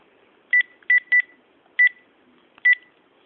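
Telephone being dialed, five short electronic keypad beeps in an irregular sequence, clear and close against a quiet background.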